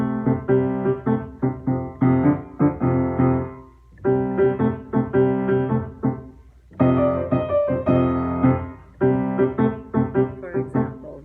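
Piano playing a blues-scale jazz or blues passage in short rhythmic phrases with brief gaps, fairly loud and close, with no talking over it.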